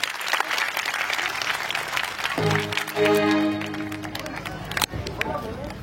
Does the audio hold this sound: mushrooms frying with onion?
no